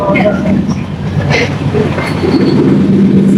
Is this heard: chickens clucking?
no